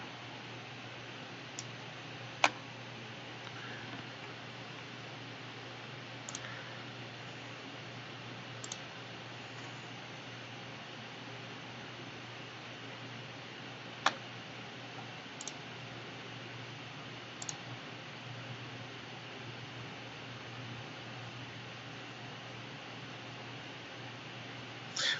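A computer mouse clicking now and then: a handful of faint, sharp, well-spaced clicks over a steady low hiss and hum, with no voices.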